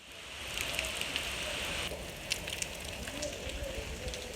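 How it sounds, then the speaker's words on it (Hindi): Heavy rain pours steadily on a village, a dense close hiss with scattered drip and patter accents, and a faint voice murmurs underneath. "तो बारिश अभी हो रही है"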